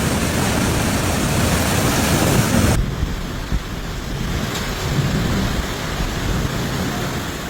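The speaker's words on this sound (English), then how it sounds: "The atmosphere produced intense rainfall over short periods, dangerous lightning activity, localized hailstorms, and powerful downdraft winds capable of causing widespread disruption." A thunderstorm in Greece with heavy rain hissing loudly and steadily, a deep rumble of thunder underneath, and the downpour dropping abruptly in intensity partway through before continuing more softly.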